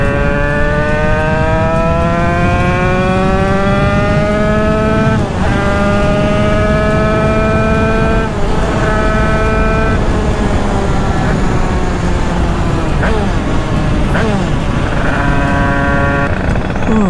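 A 1996 Bidalot WR motorcycle revving hard and accelerating through the gears, a loud, close engine whine climbing repeatedly with brief dips at each shift over seventeen seconds.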